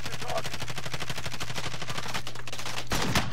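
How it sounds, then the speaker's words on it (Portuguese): Rapid automatic gunfire from a Call of Duty match rattles in a dense, loud, steady burst lasting several seconds, ending in a heavier final blast. "tem cara atirando aqui, Felipe"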